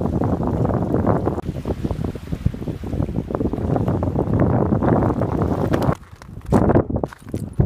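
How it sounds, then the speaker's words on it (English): Ocean waves on an island shore overlooking the Pacific, a rough, continuous wash heavily buffeted by wind noise on the microphone, loud and close, with a short dip in the rush near the end. "Probably you can see the waves over at the back. So I could even hear the waves."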